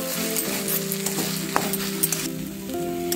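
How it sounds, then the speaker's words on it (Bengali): Fish cutlet filling of katla fish and lightly boiled mashed potato being stir-fried in a pan, with a steady close sizzle and scraping stirs throughout and no talking. "ভালো করে সমস্ত কিছু আবারও কষে নিচ্ছি"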